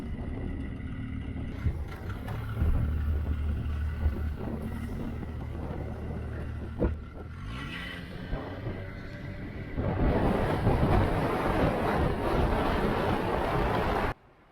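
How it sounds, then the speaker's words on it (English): Strong wind rushes past while snowmobiles cross a glacier on Svalbard, a steady engine drone under broadband wind noise that swells louder partway through before cutting off abruptly. "it was really windy going home"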